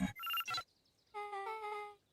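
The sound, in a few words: keypad entry tones in Beacon Pines video game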